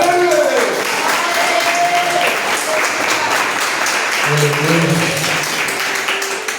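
A church congregation applauds, with steady, dense clapping throughout and a few voices calling out over it before it fades slightly at the end.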